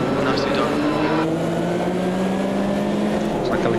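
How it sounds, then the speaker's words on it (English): A historic race car in the Automobilista 2 racing game drones at high revs, then downshifts to second with a sharp pitch drop, the engine note sliding under steady in-game noise. "Having to flip on the downshifts here. Down to second."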